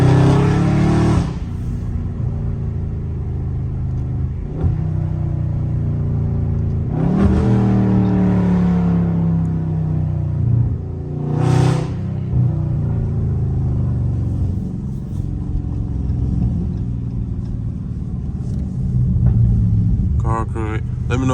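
A Dodge Charger Scat Pack's engine rumbles and revs on a late-night drive, a deep low drone swelling in a few throttle surges heard from inside the car, with someone talking over it.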